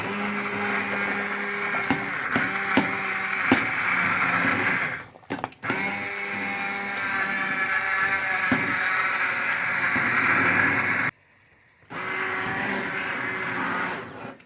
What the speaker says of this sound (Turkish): bir bardak sütümüzü blenderdan çekerken içine ekliyoruz